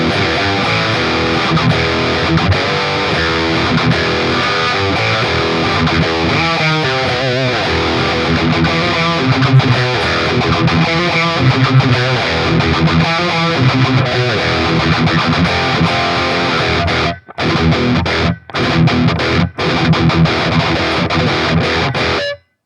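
Heavily distorted electric guitar through a PRS Tremonti treble pickup plays loud and bright, a dense wall of sound with a few abrupt cutoffs near the end.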